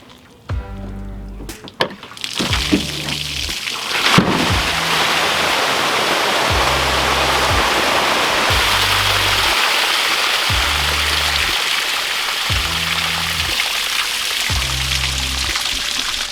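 Rainwater left from a recent storm pours out of a container in a steady, loud rush of splashing water that runs for most of the stretch, after a few brief clunks at the start.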